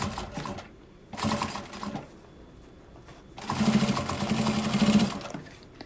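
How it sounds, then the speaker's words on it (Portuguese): A sewing machine stitches a fabric zipper pouch in bursts, its fast rhythmic needle clatter starting and stopping close by, with the longest run near the end. "Passando a costurinha exatamente em cima da costurinha de baixo."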